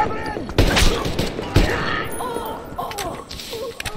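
Gunshots crack out in the post-apocalyptic shooter Metro Exodus, two heavy reports early on followed by scattered fire and combat noise, with game voices shouting over the fight.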